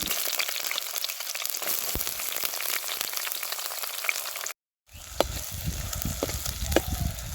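Sliced onions and curry leaves frying in hot oil, a steady crackling sizzle throughout with a brief dropout midway, then the sizzle returns livelier with sharper pops and stirring scrapes.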